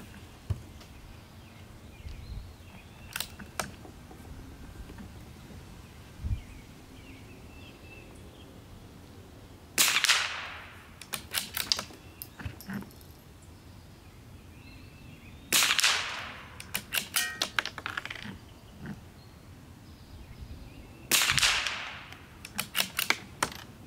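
Rimfire rifle shots from a CZ457 firing Velocitor ammunition, three sharp loud cracks spaced several seconds apart, each followed by a quick flurry of clicking action handling, with quieter mechanical clicks between.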